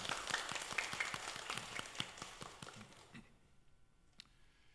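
A church congregation claps during a Sunday morning service, a faint, scattered round of handclaps with a few distinct claps that thins out and fades to near quiet.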